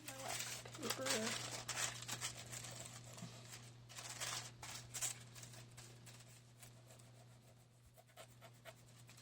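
Wax paper being handled during a paper scrap craft: soft crinkling, rustling and brief tearing-like bursts come and go close by, with some faint breathy sounds.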